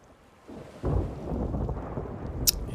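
Thunderstorm at sea in the Sea of Thieves video game: a deep thunder rumble builds and rolls continuously under steady rain and wind, with a brief sharp crack near the end, no talking.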